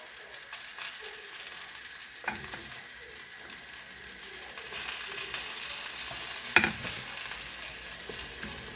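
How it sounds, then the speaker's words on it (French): Risotto with a crumbled chicken stock cube is stirred in a pan, a quiet bubbling sizzle broken by a few sharp scraping clacks of the spoon, close and without speech. "Et on remue."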